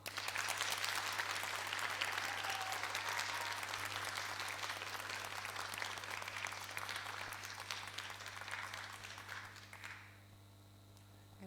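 A studio audience at a Neapolitan talent show applauds on cue for a contestant, steady dense clapping for about ten seconds before fading to a quiet hum with a faint tone underneath.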